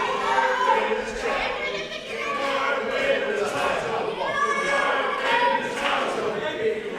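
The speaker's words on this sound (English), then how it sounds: "Crowd telling Crowley that he won't win the title." A wrestling crowd at a Resurgence Championship match chanting at Charles Crowley, a loud rhythmic mass of voices filling the arena, with a commentator's voice mixed in.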